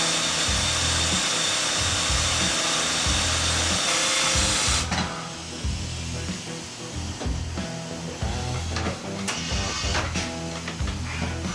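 A CNC mill peck-drilling holes gives a loud, dense machining roar at first, then repeated rhythmic strokes as the drill retracts and plunges again and again.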